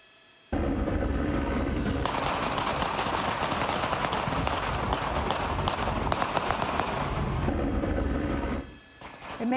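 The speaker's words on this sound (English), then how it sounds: "it's very startling to hear all those gunshots" Rapid gunfire during a police standoff with a suspect in a bullet-riddled SUV in Atwater Village, a dense sustained crackle of many shots lasting several seconds, loud and continuous before cutting off abruptly.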